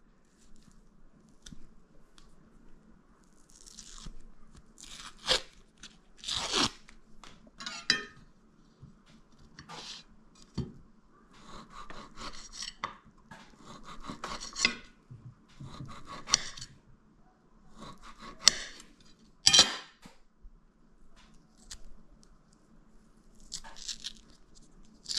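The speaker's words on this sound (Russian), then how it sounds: "Теперь нарезаем колбаску и можно будет кушать." Sausage being sliced with a knife in a home kitchen, a series of irregular crisp cuts and soft squishy taps against a board, spaced across the stretch with quiet kitchen handling noises in between and no talking.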